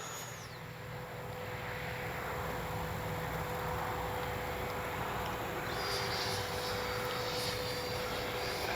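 Freewing 64mm BAe RC model jet flying overhead on an afternoon sortie, its electric ducted fan giving a continuous whooshing whine that stays steady and fairly loud, with a faint high tone throughout.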